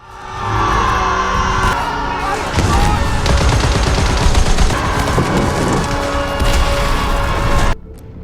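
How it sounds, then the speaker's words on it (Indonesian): Dense exchange of gunfire from a World War I battle scene, with rapid overlapping shots, machine-gun bursts and heavy booms filling the whole stretch before cutting off abruptly near the end. "terbangun karena suara baku tembak"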